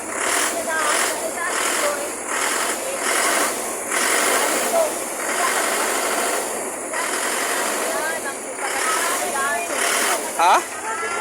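A stopped truck idles with a low, continuous engine hum under almost constant talk in Tagalog, with small clatters and shifts in the motor's tone, and a brief louder burst near the end.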